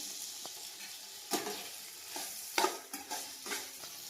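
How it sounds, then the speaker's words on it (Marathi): Paneer frying in a kadai, a soft steady sizzle with occasional louder stirring scrapes and clinks from the utensil, close but quiet, no speech. "आता मी याच्यामध्ये पनीर फ्राय करून घेत आहे।"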